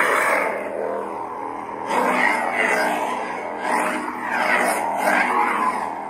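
A custom Corran Born lightsaber from Space Junk Sabers swings through several smooth, whooshing sweeps over a steady electronic hum, each pass rising and falling in loudness.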